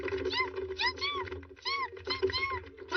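A cartoon cat in a Hindi-dubbed Doraemon animated film gives a string of short, high, rising-and-falling meows in quick succession, close and clear.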